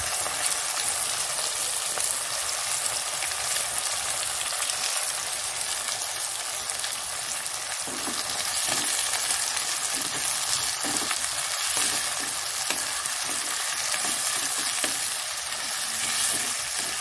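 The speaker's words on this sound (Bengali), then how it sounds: "পেঁয়াজটা দিয়ে দিচ্ছি" Onion fries in a pan with a strong, continuous sizzle, broken by soft scraping and stirring sounds near the middle. No one speaks.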